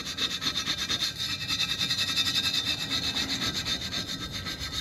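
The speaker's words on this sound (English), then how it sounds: "I don't mind hitting it with this coarse steel wool" Coarse steel wool scrubbed over a rusty metal 1963 Coleman 228E lantern in steady, rapid back-and-forth strokes, a continuous close-up scratchy rasp with no talk.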